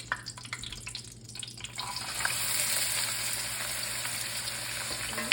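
Oil heats in a pan on a stovetop set to 5. A soft, steady sizzle builds and holds, with faint clicks early on and a low hum beneath, and no talking.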